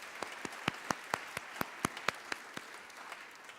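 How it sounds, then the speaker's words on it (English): An audience applauds at the Ms. Mature Irving 2014 pageant evening, giving a round of applause with sharp, distinct claps that come in a loose, fairly sparse rhythm and carry no talk. "Let's please give him another round of applause."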